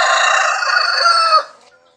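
A white leghorn rooster among egg-laying hens lets out one loud, close crow lasting over a second before tailing off into quiet.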